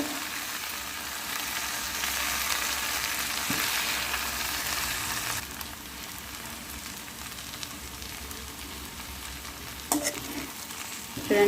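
Okra (lady finger) is stir-fried with chilli powder in a pan. A continuous close sizzle runs under repeated scraping and stirring strokes, and the hiss softens partway through.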